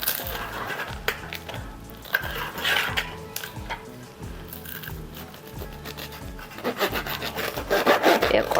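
A knife saws through a crusty, bubbly homemade focaccia, giving repeated close rasping, crackling strokes with a steady back-and-forth rhythm and no talking.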